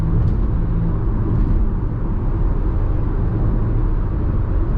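2018 Audi SQ5 accelerating hard to pass on the road, a loud, steady broadband engine and road roar heard from inside the cabin, with no talking.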